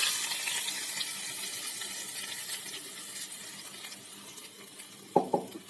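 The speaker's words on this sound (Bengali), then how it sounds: "আমি খুব স্লোলি তেলটা হচ্ছে এরকমভাবে দিক থেকে দিয়ে দেবো" Oil is poured slowly over marinated food, making a faint continuous liquid trickle with low background noise and a couple of short louder splashes near the end.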